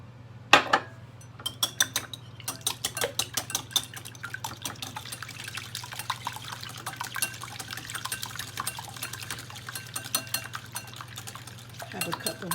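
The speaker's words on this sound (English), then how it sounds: "Smaller bowl. I'm going to whisk my 2 eggs." Two eggs whisked in a smaller bowl for buttermilk apple fritter batter, a quick run of close, sharp clinks of a whisk against the bowl after a louder knock at the start, with a steady hum underneath.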